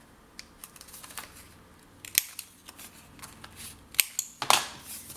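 Scissors snip the corners of a folded paper scrapbooking folio, producing sharp, sparse cutting clicks and crisp paper rustles, close and isolated with no talk.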